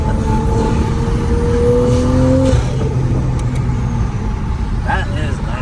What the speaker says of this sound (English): Anytime you want to, you get that sweet blow-off sound and everything.